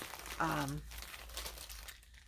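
Plastic yarn packaging being cut open with poor-quality scissors, a short crinkling and rustling burst under a speaking voice, fairly quiet and close.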